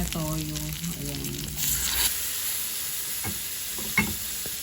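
Soy sauce poured over fried milkfish (bangus) in a pan, producing a steady sizzle and frying crackle with a few stirring clinks, fairly loud and close, without speech.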